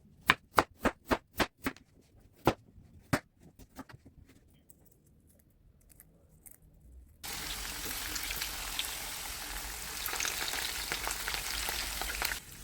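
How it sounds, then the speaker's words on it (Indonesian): Chicken pieces fry in margarine in a pan, first a few sharp isolated pops and crackles, then a sudden steady loud sizzle that continues to the end with no talk. "Bahkan cuman ayam begitu aja digoreng margarin udah enak, udah gurih dari margarinnya."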